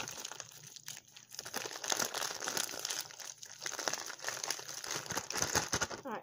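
Persimmons being smashed into a paste for trapping bait, giving a close, continuous wet crinkling and squelching with soft crunches.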